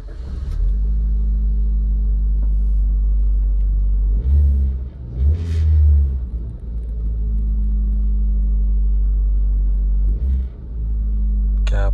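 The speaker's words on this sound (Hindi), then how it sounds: "Swift starting up" A Suzuki Swift car's engine idles as a steady, loud low rumble close by, with brief revs swelling around the middle and again near the end.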